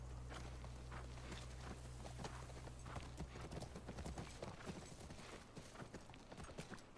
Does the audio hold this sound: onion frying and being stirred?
no